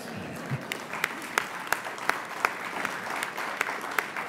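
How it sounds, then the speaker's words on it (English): Scattered audience applause at a talk on compassion and nonviolence during a faith festival: a handful of sparse, fairly regular claps from a small group, faint and a little distant, with no talking. "I'm expecting some applause here."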